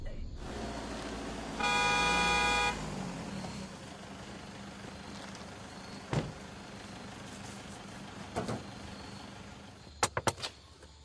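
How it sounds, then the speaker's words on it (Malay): A car horn sounds in one sustained blast, followed later by a few short, sharp honks over steady road and engine noise. "Sedap bunyi horn."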